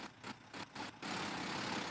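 Simulated Volvo B9TL Gemini double-decker bus in OMSI 2 idling, a steady rumbling drone that pulses unevenly at first, then settles into a continuous, rougher idle.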